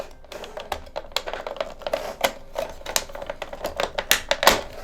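Plastic back piece of a Dyson vacuum head being pried off, a series of close, sharp clicks and snaps in an irregular rhythm, with no voice.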